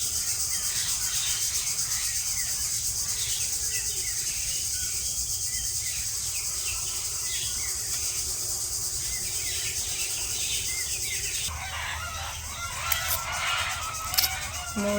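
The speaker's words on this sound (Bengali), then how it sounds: "মুরগিতে কি ডাকা রাখতেছে।" Chickens call in a morning farmyard, a faint steady clucking mixed with constant insect and cricket buzzing throughout, with a few brief louder noises near the end.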